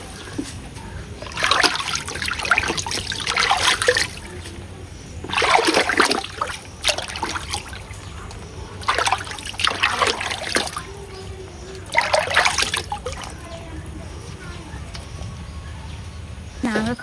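Karisalankanni herb seeds are washed in water, giving four bursts of splashing and trickling a few seconds apart, close and fairly loud.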